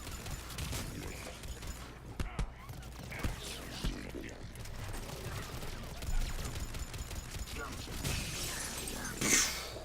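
A frozen enemy shatters under cryo ammo in the video game Mass Effect 3, a brittle crackling break amid scattered gunfire bursts and mechanical clatter, with a sharp icy burst near the end and someone talking throughout.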